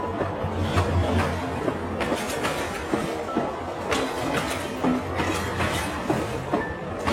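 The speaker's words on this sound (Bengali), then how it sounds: "ট্রেনটা ছেড়ে দিচ্ছে তো।" A cartoon train pulling out of a village station at night, its wheels clattering steadily with a low rumble and some squealing, loud and close throughout with no voices.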